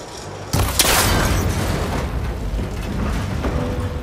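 A cable connector in Horizon Forbidden West is shot and breaks with a sudden loud crack and boom, followed by a dense, sustained rumbling crash that keeps going steadily to the end.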